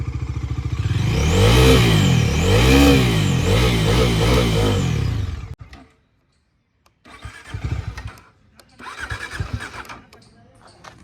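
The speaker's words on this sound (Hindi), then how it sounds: "थोड़ा सा मैं इसके थ्रॉटल को बढ़ाता हूँ।" A Bajaj Dominar 400cc motorcycle engine revs loudly several times, rising and falling, then cuts off. After a brief quiet, a person speaks.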